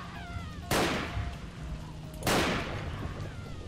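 Two sharp gunshots ring out about a second and a half apart in the PC police game Enforcer, each a loud broadband crack with a decaying tail over a low ambient hum.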